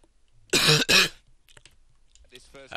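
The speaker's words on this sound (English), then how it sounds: "Sorry about that cough, just got a bit of a cold" Two sharp, loud coughs close to the microphone in quick succession, followed by faint clicks and a brief rustle.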